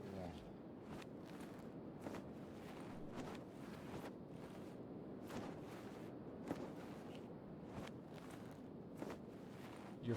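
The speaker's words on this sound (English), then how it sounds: "Your footsteps are too loud." Footsteps of a character in the video game Kenshi, a steady run of soft thuds under a constant wind-like ambient bed, with a voice speaking over the game sound.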